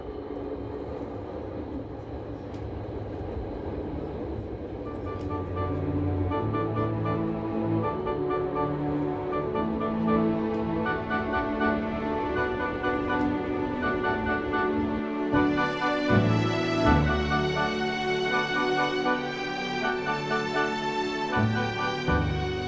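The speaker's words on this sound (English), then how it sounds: "The train climbs steadily higher, toward Oberalp." Glacier Express rack railway train climbing a steep cog section toward Oberalp through snowy winter scenery, a steady rumbling, rolling drone with rhythmic mechanical clatter and rising whine, continuous and fairly loud, no talk.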